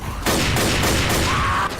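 A dense, loud burst of rapid gunfire fills nearly two seconds of a zombie shooter game, continuous and close with a slight tail at the end.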